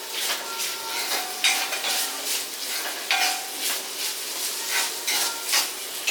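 Chopped onion sautéing in oil in a pan, a soft steady sizzle broken by repeated scraping and clinks of a spatula stirring against the metal.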